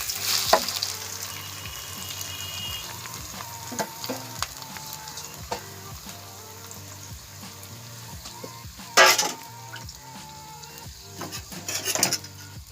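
Vegetables frying in hot mustard oil for a winter-vegetable egg bhurji, a steady crackling sizzle with clinks of a spatula against the pan and bursts of louder spitting, close and with no talk.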